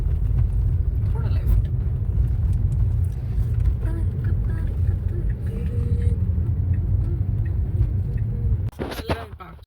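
A Tesla car drives along a road, its low, steady rumble of tyres and road noise filling the cabin at an even level before a brief clatter near the end.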